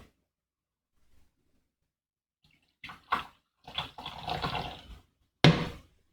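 Aged 2005 Nanqiao Blue Peacock tea poured from a height: a few short splashy bursts, then a steadier trickle and one sharp final splash, close and fairly quiet after a long near-silent stretch.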